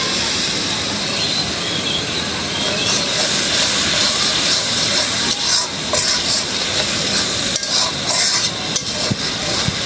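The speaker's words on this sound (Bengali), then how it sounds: "এখন দিয়ে দিব আদা রসুন বাটা।" Ginger garlic paste frying in oil spiced with coriander and cumin powder, a loud, dense hissing sizzle with rough scraping and stirring in the pan throughout.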